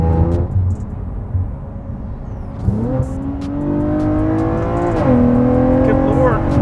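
An all-wheel-drive Infiniti Q60 with upgraded Z1 turbos, running on pump gas, accelerating hard up and over a hill from inside the cabin, its engine note climbing steadily in pitch through the gears and staying loud and close.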